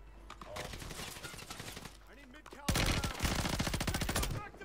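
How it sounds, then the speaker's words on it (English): SMG fire in Call of Duty on Rebirth Island, a fast rattling burst coming in partway through and then louder, closer bursts, with game sounds and voices in the background. "What SMG is that?"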